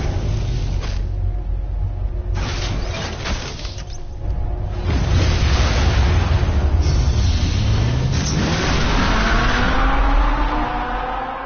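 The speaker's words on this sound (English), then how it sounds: "Damn, that car makes noise." A loud car engine in a Batman video game roars and rumbles steadily, with whooshing passes and rising revving tones toward the end, no talking.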